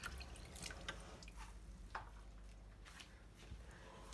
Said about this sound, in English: Now I'm going to pour the yogurt here.